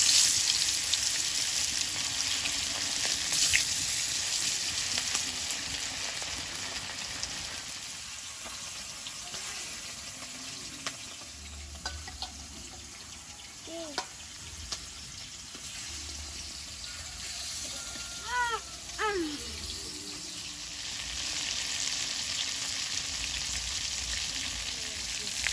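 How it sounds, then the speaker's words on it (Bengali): Small chela fish frying in hot oil in a kadai, giving a steady, moderate sizzle that carries on throughout, with a few light clinks of utensils and brief background sounds partway through. "মাছগুলো ভাজা হয়ে গেছে, তুলে নেব।"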